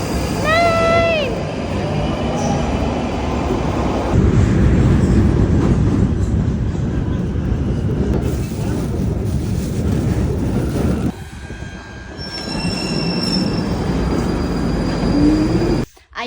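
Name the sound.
London metro train departing with squealing wheels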